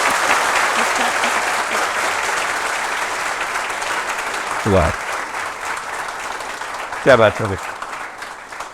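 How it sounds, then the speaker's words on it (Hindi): An audience at a Hindi-language talk on UPSC 2023 results applauds loudly and steadily, a dense wash of clapping filling the whole stretch while a man briefly exclaims in approval partway through. "एक बार आप ज़ोर से ताली बजा के इनको बधाई दे दीजिए।"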